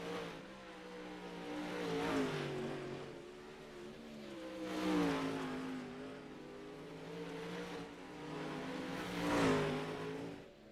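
Pro Late Model race cars lap a dirt track, their engines droning in rising, swelling waves as each pack passes at a moderate distance and then fades back.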